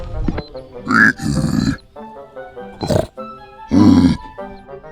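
Several loud, close grunts and snorts like a pig, in short bursts with pauses between, some sounding like a voice imitating the animal, in a bodycam-style shooter game.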